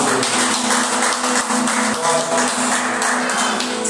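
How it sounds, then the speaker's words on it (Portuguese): A church congregation claps in a dense, rhythmic burst under sustained background music, loud and close, with uneven individual claps throughout. "Uma salva de palmas para o Senhor"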